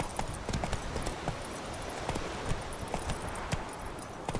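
Hooves of a galloping horse in The Witcher 3: Wild Hunt on Xbox One, a quick rhythmic clatter of hoofbeats, moderately loud and steady with no talk over it.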